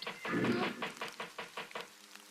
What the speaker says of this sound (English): It was knocking at the door.